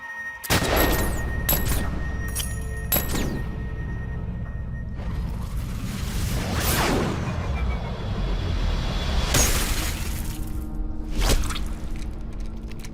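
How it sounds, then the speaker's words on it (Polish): Gunfire in the military shooter Medal of Honor: Warfighter: several sharp, loud shots ring out at irregular intervals, each a hard crack with a short tail, over a low ambient rumble and occasional whooshing movement. "Celny strzał."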